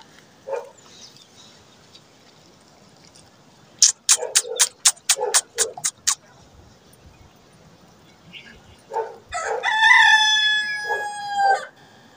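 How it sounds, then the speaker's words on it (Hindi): A village rooster crows loudly and close by, its long harmonic call rising and trailing off. Before it comes a burst of sharp, rapid calls, and a few scattered thumps and rustles are heard, with no talk. "मेरा मुर्ग भी अजाने दे रहा है"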